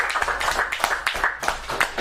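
Audience applause at a Montreal-style cabaret show, steady clapping from a crowd that fills the clip at moderate volume with a few louder claps, no talk over it.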